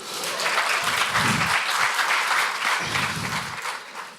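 A large crowd claps loudly and continuously, a dense wash of applause with low murmurs and voices rising underneath at moments.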